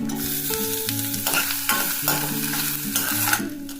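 Garlic, ginger paste and grated coconut fry in hot oil in a pan, giving a steady close sizzle with scraping stirs throughout and no voices.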